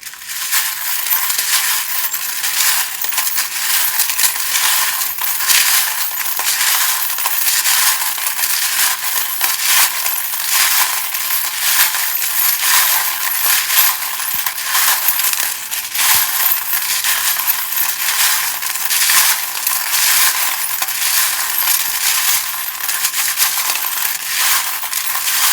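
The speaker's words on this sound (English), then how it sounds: "If you don't like the sound of the charms being shuffled, then do, turn down the volume, because they can be quite loud sometimes." Metal charms shuffled for a tarot reading, a continuous dense jingling and clinking that runs without a break, close and fairly loud.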